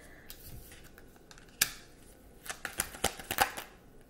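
Tarot cards shuffled by hand in a quiet room, a brief riffle followed by a run of crisp, close flicking and slapping sounds with no talking.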